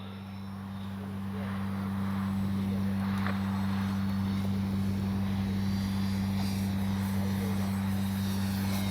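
A Flightline OV-10 Bronco RC plane with AS3X+ flies in steady wind, its twin electric props giving a continuous, even drone with a strong low hum, holding at a constant level without talk.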